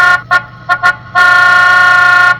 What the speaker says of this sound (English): this little sound module right here is the horn, and I can test it by pushing here